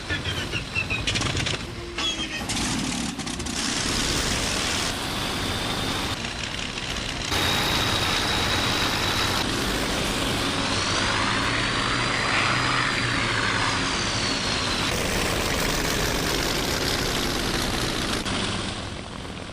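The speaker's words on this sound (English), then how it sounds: "Mechanics swing the starters. My engine at once thunders into life." WWII fighter aircraft engines starting up and roaring, a loud sustained propeller drone with surging rises and shifting pitch over several aircraft, close and continuous without voices.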